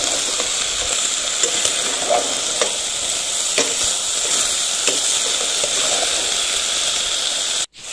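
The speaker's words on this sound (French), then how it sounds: "Donc là, j'ai rouvert et je mélange à nouveau." Comorian beef ntibe being stirred as it cooks in its own juices, a steady close sizzle and hiss with soft scraping strokes of the spoon recurring throughout, ending in a brief knock.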